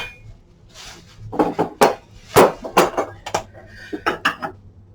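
China salad plates clink and knock as they are unboxed and handled, with sharp irregular ceramic taps and rustling packing between them, fairly close with no speech.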